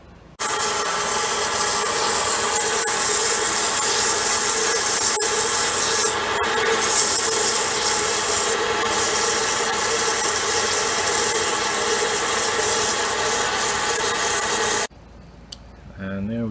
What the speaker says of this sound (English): Bandsawed it in about 5 minutes